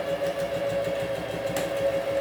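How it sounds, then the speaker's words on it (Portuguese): A sewing machine stitches alongside a zipper on a zipper pouch, its motor and needle giving a steady, close, even whir with a fast repeating beat and no pauses. "E aí segue costurando ainda."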